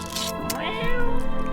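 A cat meows in the video game No, I'm Not a Human, one loud drawn-out close meow with a rising-falling pitch, over faint background game sound.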